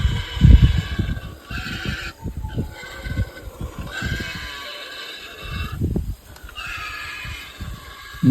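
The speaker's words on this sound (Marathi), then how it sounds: "डुकराचा आवाज येतोय" A wild boar in a sugarcane field at night gives several drawn-out, high-pitched calls in a row, fairly close, with rustling and low thumps in between.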